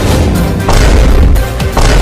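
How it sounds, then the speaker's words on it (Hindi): Firecrackers set off under a cot in a village, a loud, dense roar of crackling bangs that fills the moment with several sharper bursts punching through. "कौन कमीना हमारे ही पीछे पटाखा फोड़ दिया"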